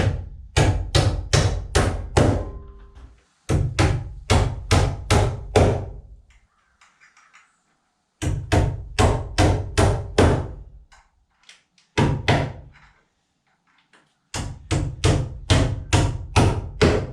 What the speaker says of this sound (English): Just going to apply them with 16 penny nails, sinkers.